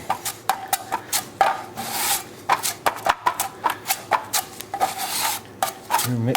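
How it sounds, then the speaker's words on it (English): Fiberglass filler being mixed on a board with a spreader, a rhythmic series of short scraping and rubbing strokes, close and fairly loud, repeating about twice a second. "I was just getting ready to mix up the fiberglass"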